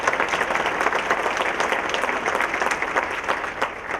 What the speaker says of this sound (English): go ahead and applause now